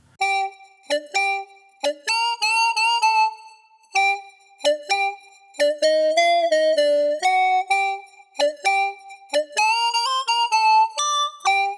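A saxophone phrase through a pitch-tracking filter, with a hollow, filtered tone that sounds much like a clarinet, playing quick runs and held notes alone.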